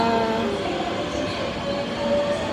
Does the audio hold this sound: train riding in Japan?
yes